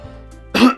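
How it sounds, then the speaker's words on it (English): A single harsh cough, close and loud, preceded by a faint breathy lead-in and ending quickly in a short rough burst. "Sorry, I'm coughing."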